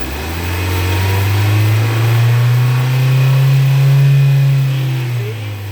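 A car engine with a gasoline direct-injection intake, sprayed with brake cleaner during intake-valve carbon cleaning, rises from idle to a higher steady RPM and holds a loud, close drone before easing off slightly at the end.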